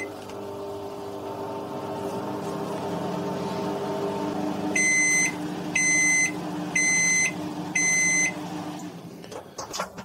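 A microwave oven hums steadily with a glass of water inside, then four evenly spaced electronic beeps sound near the end, followed by faint clicks; close and clear, no voices.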